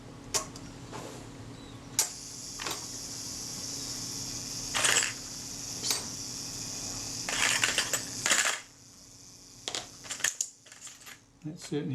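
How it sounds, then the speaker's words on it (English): Self-timer of a vintage camera shutter running down on the bench during repair, a series of faint ticks and clicks building to a denser whirring rattle and ending in sharp snaps, close and quiet. "Let's check the self timer while we're at it."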